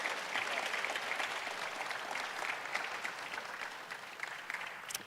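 A lecture-hall audience applauds after a public lecture, steady dense clapping holding for several seconds with faint crowd murmur beneath.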